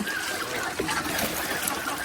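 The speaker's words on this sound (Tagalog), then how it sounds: "nagtatapon ako dito ng tubig para mapunta dun yung tubig sa mangga" Fish pond water poured out onto the ground to water a mango tree, a steady close trickle and splatter running continuously through the short moment.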